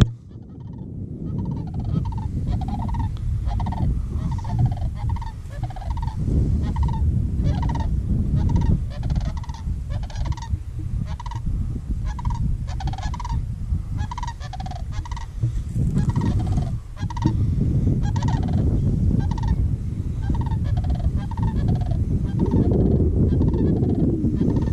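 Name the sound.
cranes calling as they fly over a field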